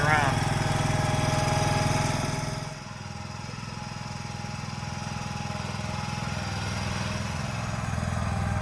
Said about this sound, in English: Pretty cool the way those mules articulate to maneuver this around.